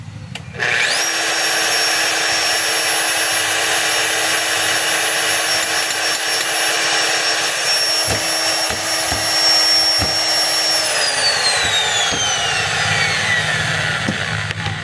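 A DeWalt D25811 5 kg jack hammer runs with a loud, steady motor whine for about ten seconds, spinning freely without its usual hammering blows, then winds down with a falling pitch.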